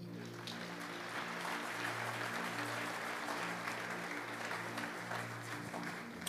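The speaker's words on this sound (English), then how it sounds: "Clap your hands for them." A church conference audience applauds in a steady, sustained burst for the whole stretch, with many hands clapping at once over a faint low hum.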